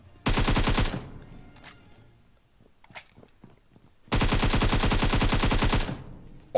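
AKM rifle fire in the mobile shooter game BGMI: two long, loud automatic bursts of rapid shots separated by a gap with faint scattered single pops and ambient game noise.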